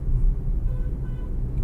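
A car engine in a manual car being driven through the gears hums with a low, steady rumble, heard from close by without talk.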